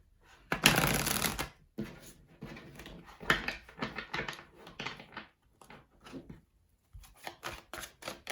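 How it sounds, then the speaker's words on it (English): Tarot cards shuffled by hand in a short burst, then in quicker riffling and patting passes, close and fairly loud, with brief pauses between bursts and no talking. "Just going to shuffle the cards for a little."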